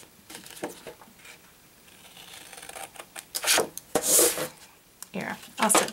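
Card stock being cut for a Minions-themed candy box card, with scrapes and rasping strokes of the blade in bursts that grow louder toward the end, close by.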